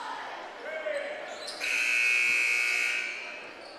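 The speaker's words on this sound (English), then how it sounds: "Buzzer sounds and we'll get back into action." A loud electronic buzzer blares for about a second and a half inside a high school gym during a sectional basketball game, following a brief squeak and arena noise beforehand.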